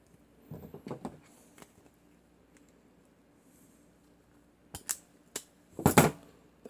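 A self-adjusting wire stripper bites through the sheathing of black-and-white extension wire, giving a few sharp, close clicks and crunches near the end, with quieter handling rustle earlier and a quiet gap between.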